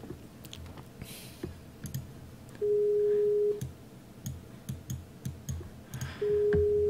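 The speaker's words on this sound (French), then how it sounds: "vous entendez peut-être la sonnerie" A communication app's call tone sounds twice as a long steady beep, each lasting about a second, over a background of scattered clicks and keyboard taps during an online match broadcast.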